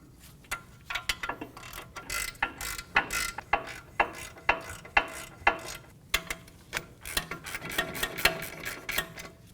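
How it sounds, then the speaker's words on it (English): A ratchet clicks in repeated bursts while caliper bracket bolts are threaded in on a 2018-2024 Volkswagen Tiguan brake job, sharp close ticking strokes with short gaps, no talking. "Install the bracket onto the vehicle and get the bolts started."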